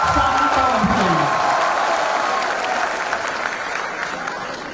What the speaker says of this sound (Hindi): एक बार फिर जोरदार तालियों से सभी अतिथियों का स्वागत और अभिनंदन।